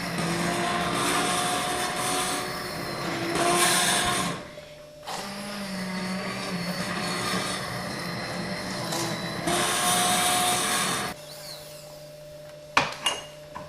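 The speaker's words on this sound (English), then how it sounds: "So here I am, blending it right through." A blender whirs through hot heirloom soup in a steady, loud motor drone that runs for long stretches, dips briefly, then cuts off, followed by a few faint clinks in a kitchen.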